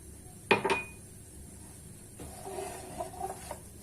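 A utensil clinks sharply against a pan holding granulated sugar, then a softer scraping stir follows with faint scratchy contact sounds, close and quiet without speech.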